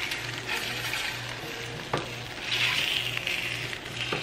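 An omelet sizzles steadily in a frying pan while a spatula scrapes and loosens it, with a faint low hum beneath and a brief sharp scrape near the middle; no talking.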